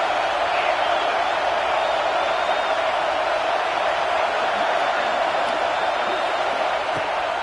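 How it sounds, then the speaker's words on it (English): Steady, dense stadium crowd roar from a college football video game on third down, a constant wall of distant cheering and murmur with no clear peaks. "Decibels rising as the crowd gets behind this defense on 3rd down."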